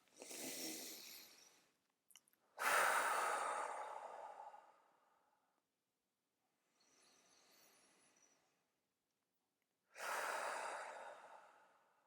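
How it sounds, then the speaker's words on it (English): Deep, slow breaths during meditation, heard close and soft: a long inhale and exhale, a quick catch of breath, another long breath, a quieter sigh, then one more full breath, with silent pauses between. "I'll take several deep breaths."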